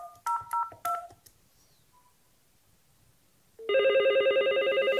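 A VoIP phone placing a test call: several quick keypad dialing tones in a short burst, a pause of near silence, then a steady, loud pulsing ringback tone.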